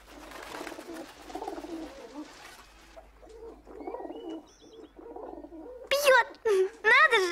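Pigeons being given water coo softly behind people talking, then several louder, close warbling coos break out near the end.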